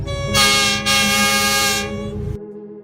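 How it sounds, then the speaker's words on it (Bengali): An approaching train sounds its horn in loud, close blasts: a short gap near the start, then one long sustained blare that cuts off abruptly. "ওই তো ট্রেন আসছে"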